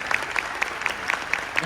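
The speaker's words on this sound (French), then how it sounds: "je pense que ça mérite un grand honneur d'applaudissement" Audience applause at a Disneyland Paris Christmas event news conference: a steady crowd clapping with light rhythmic peaks, fairly close, lasting the whole stretch.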